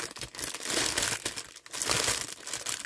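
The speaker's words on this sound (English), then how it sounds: "I'm going to fold that down. I'll just tape it back up for you." Cardboard package flaps being folded down and taped shut, a steady close run of crinkling and crumpling with a brief pause midway.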